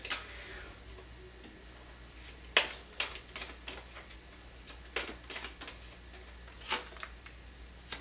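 Tarot cards drawn from a deck during a reading, giving a run of light, crisp card snaps and flicks that recur at irregular intervals with no talk over them.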